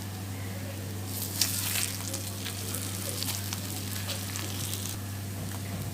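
Paneer pieces fry in a pan until golden brown, a steady sizzle with bursts of crackling and occasional stirring scrapes over a low constant hum.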